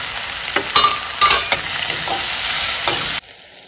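Curry leaves, onion and tomato fry loudly in a pan, a strong close sizzle broken by several sharp stirring scrapes and clinks before stopping suddenly.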